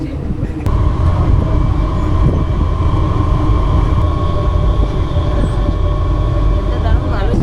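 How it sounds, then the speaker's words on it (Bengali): A train pulls into Ranaghat station with a steady low rumble and hum, constant and fairly loud throughout, with a brief sharp clank near the start. "ট্রেন ঢুকতে চলেছে রানাঘাট স্টেশনে"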